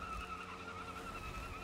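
Tires skid and squeal on a car after a neutral drop in BeamNG.drive, a sustained screech over a low engine roar, steady and fairly quiet with no talking.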